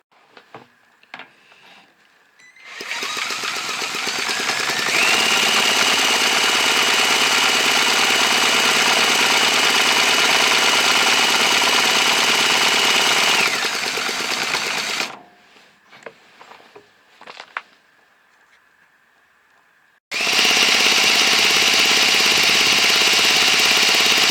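A Briggs V2 engine on an oiling test bench runs loud and steady with a rapid, buzzing chatter for about twelve seconds, stops with some brief clatter and quieter noises, then starts again at full roar.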